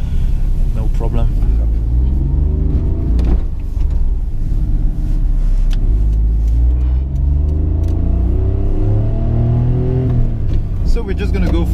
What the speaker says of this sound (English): you can see the exhaust is a little bit louder than normal